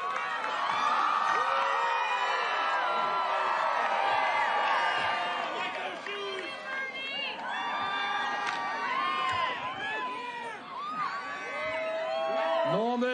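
A large, lively crowd at a university rally in Norman, Oklahoma cheers, whoops and shouts continuously at close range, with rising and falling waves of voices and some higher children's shouts throughout.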